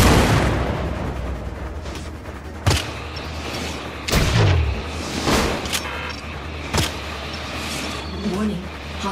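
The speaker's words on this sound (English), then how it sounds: "Incoming missiles." Heavy missile explosions from the Syndicate video game boom one after another, a sharp blast followed by deep rumbling thuds at irregular intervals, loud and close with a low droning background.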